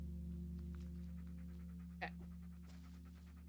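A dog pants quietly and rhythmically in the Blair Witch video game over a steady low hum, with one short, sharper sound midway.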